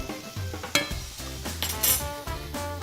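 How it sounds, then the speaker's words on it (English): Radishes and cucumbers sauté in a pan while a utensil stirs them, giving close sizzling with several sharp clinks and scrapes of metal against the pan and no talk. "I'm gonna go check on my radishes over here real quick, give it a quick stir. Nice saute"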